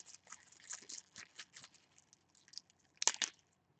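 Homemade kale chips crunch faintly in short, irregular bursts of crisp crackling, quiet and close, with a louder pair of crunches near the end.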